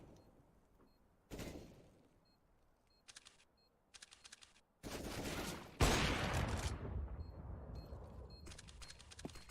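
Gunfire volleys in a CS:GO match on Nuke: faint, sparse clicks and short bursts, then a louder sustained stretch of shots near the end.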